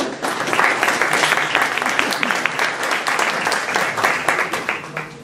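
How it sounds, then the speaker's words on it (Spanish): An audience at a lecture in Cusco gives a loud round of applause for Padre Ernesto Cucho, dense sustained clapping that tapers off toward the end. "démosle un fuerte aplauso al Padre Ernesto Cucho"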